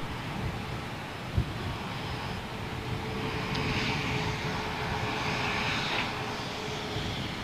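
A Boeing 737 airliner arrives at London Gatwick, its engines a steady, broad roar holding at moderate distance with a slight swell toward the middle, and no voices over it.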